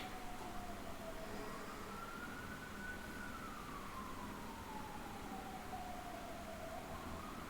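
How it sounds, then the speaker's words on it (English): A distant siren wails, its pitch rising and falling slowly over a steady background hum; it sounds faint and far away. "Way too many ambulances."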